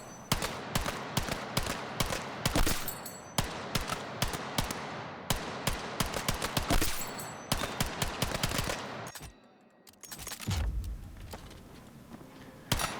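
Gunfire in the video game Battlefield 6: a rapid run of sharp, evenly spaced shots that breaks off briefly near the end, then resumes with another burst. The shots sound close and punchy, with no voices.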